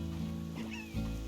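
Chickens clucking in the Slime Rancher video game, a short burst of squawking game sound effects over a steady low hum, without speech.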